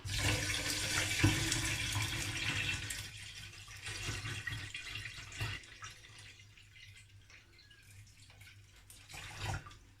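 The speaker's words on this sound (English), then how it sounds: "It's time to add our naturally collected water." Naturally collected water poured into a container for a no-cost project makes a steady splashing, gurgling pour that is loudest early, thins toward the middle and swells again briefly near the end, with no talk over it.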